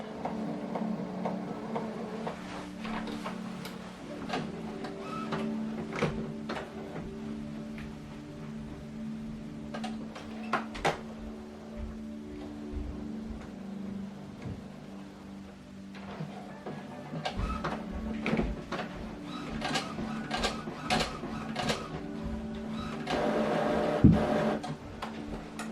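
An Epson WorkForce Pro WF-3820 inkjet printer runs its ink initialization cycle, giving a steady mechanical hum broken by repeated clicks and ticks of the print head and gears, close and moderately loud with no talking.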